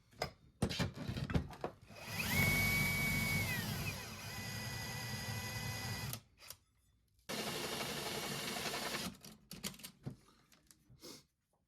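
A drill whirs steadily for several seconds boring holes in steel for a Nissan D21 Hardbody bash bar, pauses, then runs again, with clattering taps before and after; close and fairly loud.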